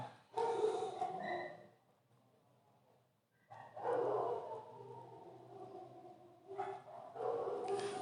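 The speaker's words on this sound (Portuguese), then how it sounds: "peço desculpa essa barulheira aí de vizinhos, de cachorro latindo" Neighbourhood dogs bark in two loud bursts of repeated barks with a short lull between them, heard nearby in an indoor evening setting with no talking.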